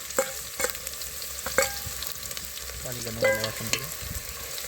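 Onion dropped into hot oil crackles and sizzles steadily, close up, with a few sharp clicks and a spoon scraping the pan; no one speaks.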